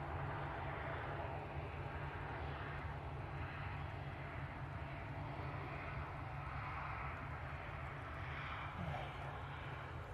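A British Airways airliner approaching Manchester Airport, a steady broadband engine roar with low rumble that holds at an even loudness throughout, fairly distant and continuous, with no voices.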